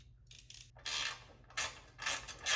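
Ratcheting wrench bursts while skid plate bolts are tightened under a Ford Bronco during a hidden winch install, several short clicking bouts separated by pauses, close and moderately loud.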